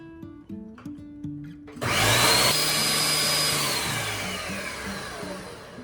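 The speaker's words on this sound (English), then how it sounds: "we're gonna give this another blend so we can get that all nice and blended up together" A blender whirs up a keto cheesecake graham cracker crust mixture, starting abruptly after a few light clicks and knocks, then running loud and close with a steady high whine that slowly eases.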